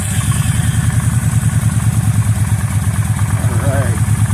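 Suzuki M95 motorcycle idling close by, a steady rapid thumping rhythm with a faint voice briefly over it near the end.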